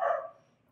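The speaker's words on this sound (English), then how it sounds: "I think you can probably hear my dogs. I've got a Klee-Kai and an Australian Shepherd" A single short dog bark from a Klee Kai or Australian Shepherd, close and moderately loud, fading quickly into quiet.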